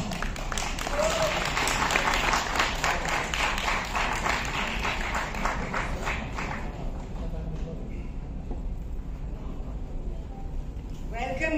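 Loud audience applause welcomes guests onto the stage at a TV serial launch event, a dense wash of clapping for about seven seconds that then thins and fades.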